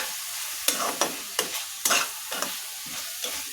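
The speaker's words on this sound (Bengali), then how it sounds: "মরিচের গুঁড়োটি দিয়ে ভালোভাবে এটা আমি নাড়াচাড়া করে নিই" A spatula stirs chili powder into frying spices in a pan while cooking a small-fish chorchori, giving irregular scraping strokes over a steady, close sizzle.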